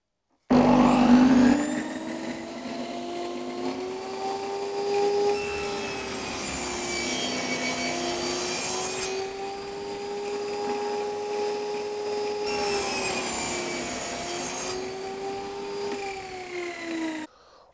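A table saw cuts grooves into wood for a Warré beehive: the motor spins up, then a long sustained whine with slowly shifting pitch as the blade runs through the board, ending abruptly.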